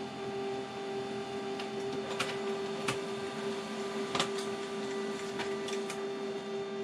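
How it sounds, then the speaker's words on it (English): An HP Color LaserJet Pro M254nw laser printer prints a document with a steady mechanical hum and a fixed tone. Sharp clicks and clacks from the paper feed cut in now and then, close and clear. "print something off just to give you a little example of the quality of this Colour Laser Jet Pro"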